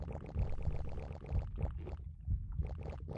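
Bubbling and gurgling watery sound in the .Hack//Mutation video game, pulsing in a rough repeating rhythm with a few brief gaps, fairly close and with no talk over it.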